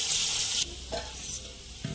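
Potato and bitter gourd sizzle in a pan in a loud burst that drops away, followed by quieter frying and a few utensil scrapes.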